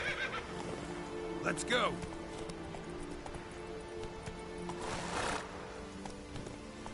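A horse in The Witcher 3 gives a clear, rising whinny around the two-second mark. Hoofbeats and game ambience run beneath it, and someone speaks briefly.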